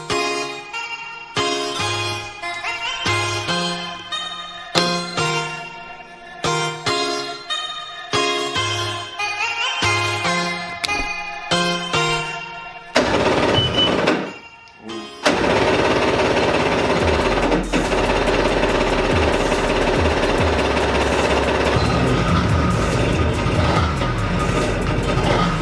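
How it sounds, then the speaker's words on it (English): Restored jet ski engine cranking in repeated rhythmic bursts, then catching and running as a continuous loud, rough drone for the final stretch; no voices. "I'm gonna put the keys in the ignition and get this puppy started."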